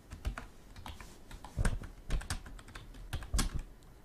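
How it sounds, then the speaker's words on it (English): Close, quiet typing on a computer keyboard, a steady patter of key clicks with heavier spacebar-like thumps at irregular intervals and no talking. "I'll be typing in your ear for about 2 seconds here"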